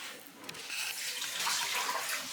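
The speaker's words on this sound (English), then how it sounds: "Pour that into the bacon and the bacon grease." Chicken stock is poured from a container into a pot of bacon and bacon grease, a steady splashing liquid stream building up over a couple of seconds, close and fairly quiet, no talking.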